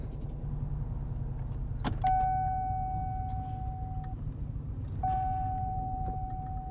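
A 1997 hearse idles roughly and unevenly, close by, with a steady low engine drone and a couple of sustained warning chimes ringing over it.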